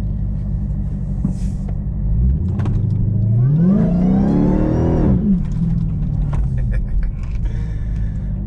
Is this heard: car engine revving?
yes